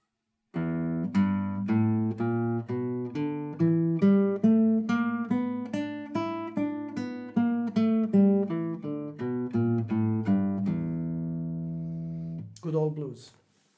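Plucked nylon-string classical guitar notes stepping steadily one after another in a slow E blues scale run, ending on a sustained ringing note, then a brief strum.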